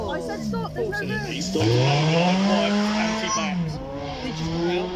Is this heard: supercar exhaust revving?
yes